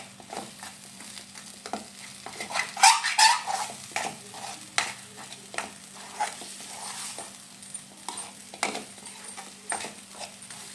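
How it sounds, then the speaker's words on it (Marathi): Green pea paratha filling frying in a pan with a spoon scraping and stirring, giving repeated clinks and scrapes over a soft, steady sizzle, fairly close and without talk. "बघा, असं आपल्याला 2 ते 3 मिनिटं चांगलं फ्राय करून घ्यायचं आहे"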